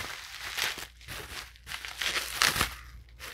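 Bubble wrap packaging around a trading card is unwrapped close up, giving several bursts of plastic crinkling and crumpling with short pauses between, and no talk.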